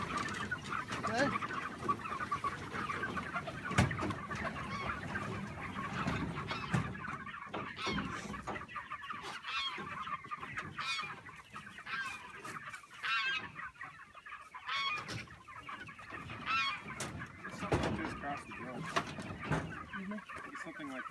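Pastured chickens cluck and chatter continuously outdoors, many birds at moderate distance giving overlapping calls at an irregular rhythm, with someone talking intermittently over them.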